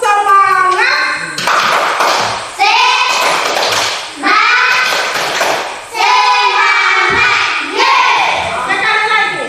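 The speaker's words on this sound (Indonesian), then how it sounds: "Ibu minta kita sama-sama untuk tepuk semangat." A school class chants together in unison while performing the rhythmic 'tepuk semangat' clap routine, bursts of hand claps and sharp taps punctuating the children's loud, sung phrases in repeated cycles.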